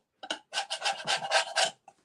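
A dirty paint scraper is dragged crossways over a wooden surface, making a short run of close, raspy scrapes in quick rhythmic strokes after one brief opening pass.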